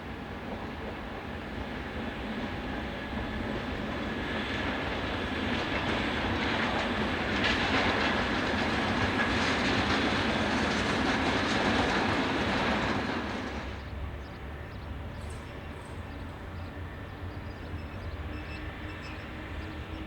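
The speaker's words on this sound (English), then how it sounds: "Here 2718 skirts the northern side of the station and past the impressive signal box with a freight" Locomotive 2718 hauls a freight train from Zeebrugge past a station and signal box, a loud steady rolling rumble with wheel clatter that drops away abruptly near the end, leaving softer background noise.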